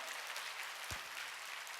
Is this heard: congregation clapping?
yes